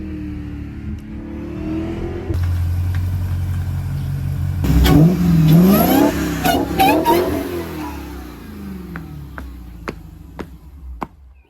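A Dodge Hellcat Jailbreak with an aftermarket intake revs up, its engine rising to a loud, roaring surge with whining intake noise, then easing off into a lower rumble with sharp clicks near the end.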